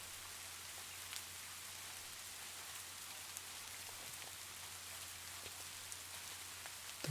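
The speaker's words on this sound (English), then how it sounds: "The rain outside continues its gentle melody, cradling you in its soothing embrace" Soft rain falls against a window pane in an even, unbroken hiss, gentle and steady, with a few faint individual drop ticks standing out and a low hum underneath.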